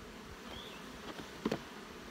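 Honeybees buzz faintly around a small hive opened for inspection, a quiet, continuous drone with a passing bee whine and a couple of soft knocks from handling frames.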